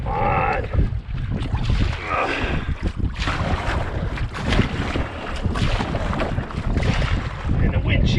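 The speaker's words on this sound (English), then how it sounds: "It's blowing me out into the middle of the lake again." Strong wind gusts roar steadily across a wilderness lake around a small paddled boat, buffeting the microphone with constant low rumble and rushing noise, loud and close, with no voice heard.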